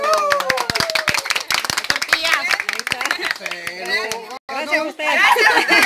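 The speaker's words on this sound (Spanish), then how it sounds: "Un aplauso. Un aplauso por mamá." Family party crowd claps for the mothers during a gift-giving, with sharp close hand claps in quick bursts over lively chatter and voices, some pitched singing or calling, with a brief dropout near the end.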